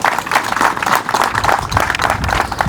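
Applause from the audience at a public art reveal ceremony, a steady burst of clapping filling the clip at close range with a faint murmur of crowd beneath it.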